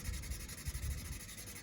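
A rusty Schrade pocket knife blade is rubbed by hand with 400 grit sandpaper, giving a steady, close, gritty scratching with uneven strokes and no talking.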